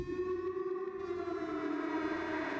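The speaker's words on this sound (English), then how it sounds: "That's loud. Sounds like a siren." A loud, sustained siren-like tone in an underwater video game holds steady throughout, layered with rich harmonics and a low droning undertone, with no voices.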